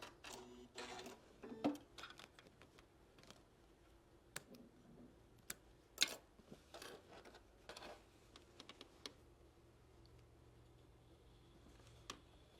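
A sewing machine stitches a bucket hat, with faint intermittent mechanical clicks and short whirring bursts separated by quiet pauses.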